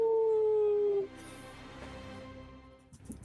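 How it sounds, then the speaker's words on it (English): A long, falling howl from hellhounds rings out for about a second, then fades into faint, distant barking against a quiet background. "you can hear the hellhounds chasing this creature off into the distance, barking rabidly"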